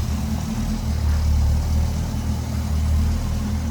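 A 1968 Pontiac Firebird 400 V8 engine idles steadily with a deep, smooth rumble, close by and continuous, with no voices.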